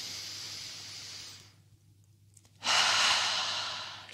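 A slow, airy breath: a long soft exhale fades into near silence, then a fuller, louder breath rushes in, close to the microphone, with no talking.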